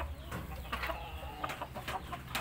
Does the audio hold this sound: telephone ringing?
no